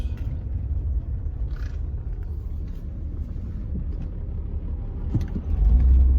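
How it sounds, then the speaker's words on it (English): A truck engine running rough, a low steady rumble heard from inside the cab with faint uneven knocks, swelling louder near the end. "truck's running rough from that minute ago"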